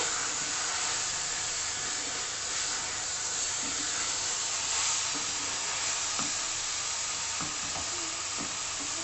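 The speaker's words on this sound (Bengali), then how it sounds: "আরও একবার আমি চিকেনটাকে কষিয়ে নিলাম মশলার জলটা দেওয়ার পর" Chicken stir-frying with spices and masala water in hot oil gives off a loud, steady, close sizzle and hiss that runs unbroken throughout, with faint stirring scrapes.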